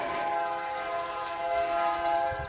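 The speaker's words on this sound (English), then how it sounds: "And a very loud train." A train passes near a backyard garden, its horn sounding a long, sustained multi-tone blare over a steady rumble of rail noise, loud and continuous throughout.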